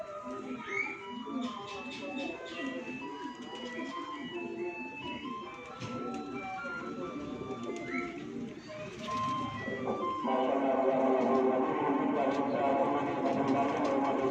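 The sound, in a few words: pigeons cooing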